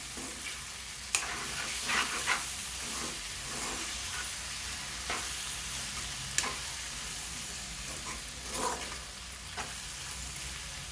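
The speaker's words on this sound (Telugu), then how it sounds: "ఉప్పు తగినంత వేసుకుని బాగా కలపాలండి ఇలాగా" Salt being stirred into macaroni gongura in a frying pan, a steady soft sizzle and scrape under occasional sharper clinks of the spoon against the pan, close and moderately quiet throughout.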